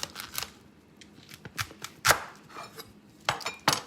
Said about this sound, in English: All I'm gonna do is cut the ends off.